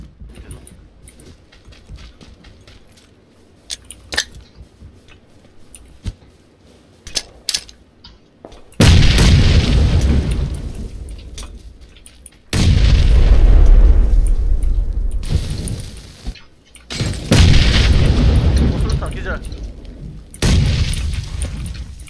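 Grenade blasts in PlayerUnknown's Battlegrounds, several loud, deep booms with long rumbling tails, spaced a few seconds apart after a stretch of scattered quieter clicks and shots.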